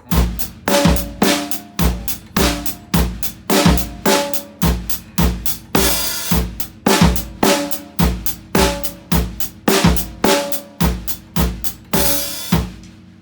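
A jazz drum kit plays a steady, evenly spaced groove with sharp repeated hits, hi-hat and bright cymbal crashes, loud and close, with no voices.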